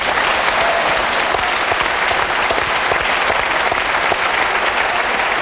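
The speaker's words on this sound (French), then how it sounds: "je crois que vous pouvez l'applaudir" A studio audience at a French television music show applauds a performer in Paris, with dense, steady clapping that fills the whole stretch at a loud, even level.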